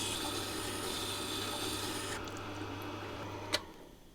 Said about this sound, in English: now I push down on the chisel and move it back and forth over the stone